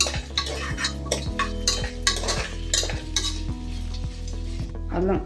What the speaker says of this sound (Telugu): అల్లం వెల్లుల్లి కొంచెం వేగాలండి బాగా, జీడిపప్పుతో సహా.